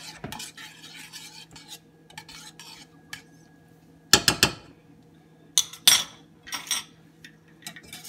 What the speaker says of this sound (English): I'm gonna just use my whisk.